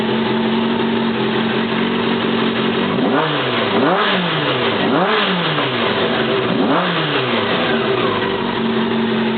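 A 1988 Honda CBR600 Hurricane motorcycle engine runs close by in cold air, holding a steady idle and then revving up and down several times in quick blips before settling back to idle, loud and alone.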